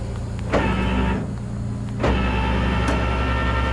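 An electric winch whines steadily as its cable drags a Dodge Charger onto a truck bed, a droning motor tone broken by brief clunks and load shifts, close and loud with no talking.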